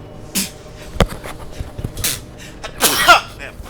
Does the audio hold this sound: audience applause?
no